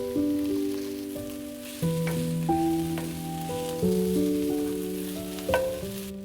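Rice stir-fried with vegetables in a pan over medium heat, a soft steady sizzle with occasional scrapes and taps of stirring, heard under a prominent music bed.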